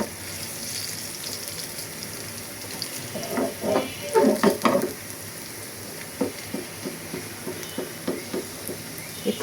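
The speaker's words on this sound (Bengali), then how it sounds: "রসুন এগুলো ছিল ডিপ ফ্রিজে, এই জন্য একটু ভাজা ভাজা হইতে টাইম লাগে" Frozen garlic fries in a small frying pan with a steady low sizzle, broken by a cluster of louder scraping and clattering stirs midway and scattered lighter clinks toward the end.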